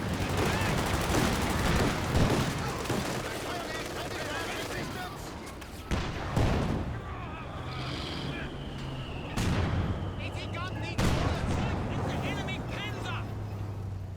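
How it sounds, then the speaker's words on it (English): Thompson submachine guns in the Company of Heroes 2 video game rattle in dense bursts, mixed with booming explosions and other battle noise, while a commentator talks over the fighting. "these Thompsons are just ripping apart these squads"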